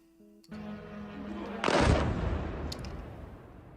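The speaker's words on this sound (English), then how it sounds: "An Iranian drone slammed into a high-rise building in Bahrain, causing a large explosion." An Iranian drone strikes a high-rise building in Bahrain, producing a single loud, sudden blast that rolls off into a lingering rumble after a steady tone and a faint preceding noise.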